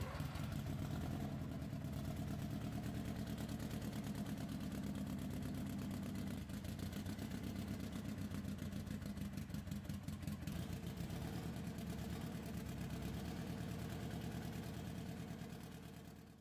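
A rebuilt 1930s Krupp M422, a Junkers-licensed 4-cylinder opposed-piston diesel of 6.5 liters and 120 horsepower, runs at a steady, close, rumbling idle throughout, fading slightly at the end.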